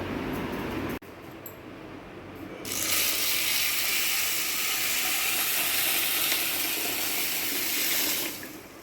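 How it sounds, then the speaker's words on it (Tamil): Water pours steadily into a bowl of green moong dal for overnight soaking, a broad hissing splash that starts after a brief clatter and runs for several seconds before stopping. "இப்போ இதில் தண்ணியை ஊற்றிக்கலாம்"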